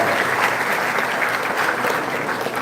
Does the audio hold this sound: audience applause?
yes